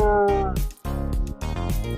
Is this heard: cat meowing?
yes